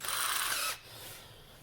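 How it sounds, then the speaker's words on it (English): A power drill with a 1/4 inch bit boring a pilot hole for a DIY guitar case humidifier, a short close whirring burst that stops abruptly, then quiet room tone. "So we're going to start with basically a 1/4 inch drill bit here to drill a pilot hole"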